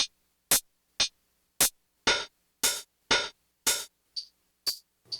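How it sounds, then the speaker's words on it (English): Crunchy, lo-fi drum hits sampled at 11 kHz play from a Roland P-6 sampler, about a dozen sharp, gritty strikes in an uneven pattern, loud and close, with silence between them and no talking. "Now listening to the super crunchy sounds sampled in at 11 kilohertz on the P6"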